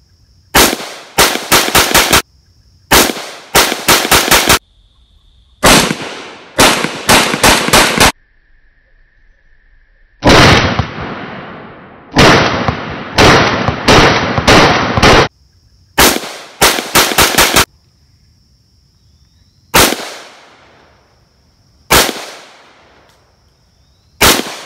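Shots from a Romanian SAR3 AK-74 rifle chambered in 5.56 NATO at a shooting range, fired in short controlled bursts and quick strings of single shots, loud and close, with pauses between groups and no talk.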